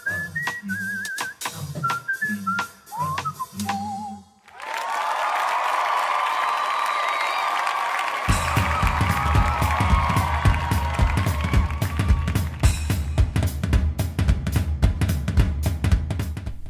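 A large crowd of golf spectators roars and cheers loudly, mixed with whistles and scattered clapping. Rhythmic beats later start up beneath the crowd noise.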